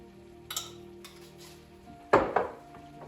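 Ground taco meat with pepper and chili powder is stirred in a pan, giving a few soft scrapes and then one louder clattering scrape with a faint sizzle, close and with no voices.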